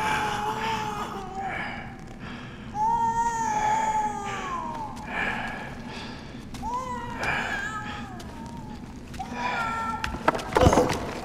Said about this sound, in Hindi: लगता है कि इसके बच्चे की रोने की आवाज आ रही है